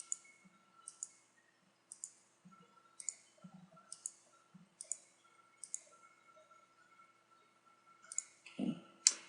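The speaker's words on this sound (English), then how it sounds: "So I'm gonna just click this one, and I'll just click animation" Computer mouse clicks come in a steady series of sharp, crisp taps spaced about a second apart, with a louder cluster of clicks and handling noise at the end and no talking.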